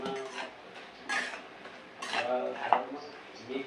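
A spatula scrapes and turns spicy prawn masala in a pan, giving repeated clattering metal-on-pan strokes in short bursts, close and moderately loud, with no talking.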